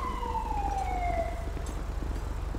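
An ambulance siren in GTA 5 during a police patrol wails in a clear descending sweep over a steady engine rumble, fairly close, then fades as the traffic noise continues.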